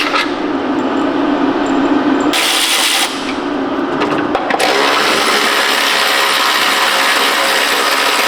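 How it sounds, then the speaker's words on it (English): Rapid mechanical ratcheting clicks from a wrench loosening bolts under a car, with a loud, dense, continuous buzz and a brief drop in texture partway through, no talking. "I'm going to have to hit these bolts with a swivel if they fit. If not, maybe a ratcheting box wrench."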